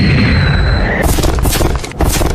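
Explosion sound effect from the Naruto Shippuden anime, loud rumbling blasts with sharp bursts and crackling debris over a sustained roar.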